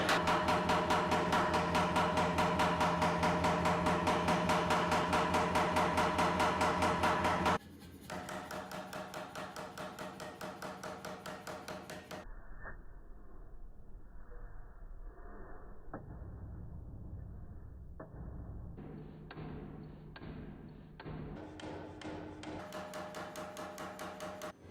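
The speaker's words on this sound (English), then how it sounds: "we rinse and repeat the forging process before we can draw the final bar out into a sword" A hammer pounds a steel bar being forged into a sword in a fast, steady run of loud ringing strikes, then shifts to sparser, duller metal knocks and handling clatter.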